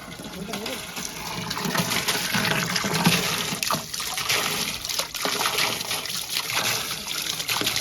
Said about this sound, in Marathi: पाणी भरला